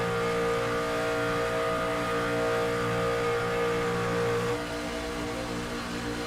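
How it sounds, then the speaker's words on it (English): A race car engine in the iRacing video game revs hard during a Talladega broadcast race, a loud, sustained buzzing roar with steady tones that rises, then eases slightly near the end. "You hear that engine, the acoustics of that engine going up."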